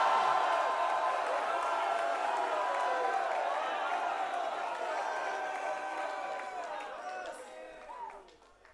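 A church congregation cheers and shouts for joy in a loud, sustained roar of many voices that slowly fades toward the end.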